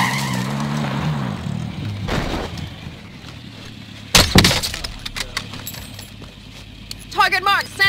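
A vehicle driven in the video game Warzone, with engine rumble, skidding and crunching impacts, plus a sharp crash midway and bursts of game effects, all under a player's voice.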